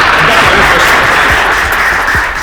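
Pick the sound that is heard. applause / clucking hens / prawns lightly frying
applause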